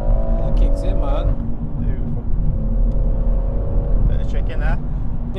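Stage 2 tuned BMW M140i accelerating hard from inside the cabin: a steady, loud engine drone and low rumble with a rising tone as the turbo builds boost, voices talking over it.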